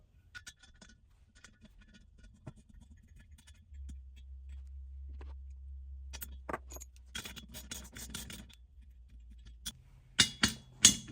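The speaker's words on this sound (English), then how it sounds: "I'm gonna tighten these studs into place so it's installed and ready to go" Wrench tightening header studs on a Toyota 4Runner with a 5VZ-FE engine: sparse metallic clinks and jangles over a low hum, building into louder clustered ratcheting clanks near the end.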